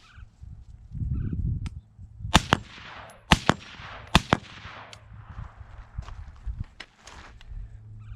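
A suppressed AR rifle at a shooting range fires three close, snappy cracks in quick succession, followed by softer shuffling and handling noises.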